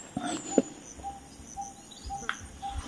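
Faint, brief bird calls sound at a distance against quiet outdoor ambience with a steady high insect hum.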